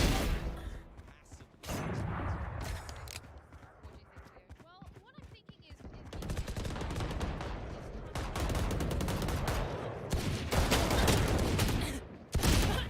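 Bursts of gunfire in the video game Valorant during a tournament match, with rapid rattling shots in clusters, loud and close, and brief pauses, mixed with game effects.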